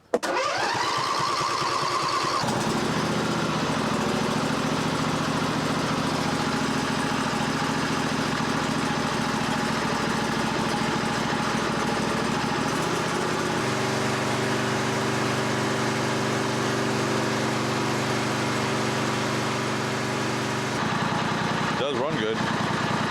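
A Cub Cadet 1190H garden tractor engine cranks and catches, then idles steadily with a loud, continuous drone that shifts to a different pitch partway through before cutting off near the end.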